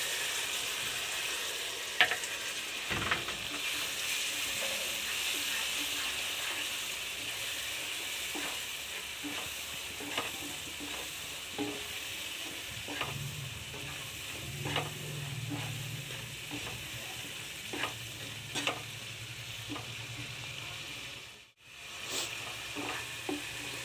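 A paste of poppy seeds, mustard and green chillies fries in a pan for a prawn malai curry, making a soft, steady sizzle broken by occasional spoon taps, quiet and close.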